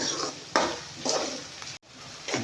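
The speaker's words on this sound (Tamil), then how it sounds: "உள்ளி வதங்குறது வரைக்கும் நம்ம கிண்டிட்டு இருக்கணும்" Garlic and green chili frying in a pan while being stirred, a steady soft sizzle broken by a few scraping strokes of the spoon, close and fairly quiet.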